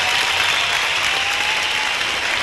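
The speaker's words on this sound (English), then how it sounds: "Let's give her a big round of applause to get us off the ground." An audience at a 1986 Vancouver skateboard contest applauds a skater, with loud, continuous clapping that holds steady throughout.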